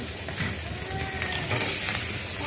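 Prawns, ridge gourd and potato hit a pan of frying spice paste and sizzle loudly, a close, continuous crackling hiss with small bursts from stirring.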